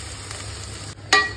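Cooked dal tipped into a hot pan for khichdi, a steady sizzle under a faint hum, then a sharp splash and hiss as it lands, brief and close.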